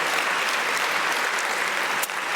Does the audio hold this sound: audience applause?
yes